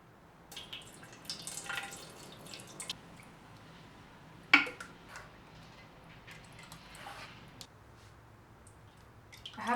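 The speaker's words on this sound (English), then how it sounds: "First, I'm going to sieve it, I think, to get the big chunks out." Fermented food is pushed through a sieve, with soft wet squishes and scattered drips of liquid falling close by, one sharper splash midway, quiet and without speech.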